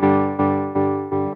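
Electric guitar chord played through an Electro Harmonix Stereo Pulsar tremolo pedal, loud and sustained, chopped into four even pulses by the effect.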